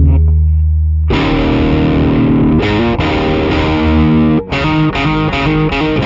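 Electric guitar played through a drive pedal stacked into a Riot distortion pedal gives thick, saturated chords: one sustained strum, then a run of choppy rhythmic hits, loud and close.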